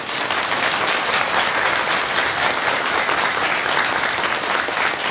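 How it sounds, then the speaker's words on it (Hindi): Sustained, dense applause from a large church congregation, loud and steady throughout with no pauses. "यीशु मसीह के लिए 2000 तालियां बजाएं।"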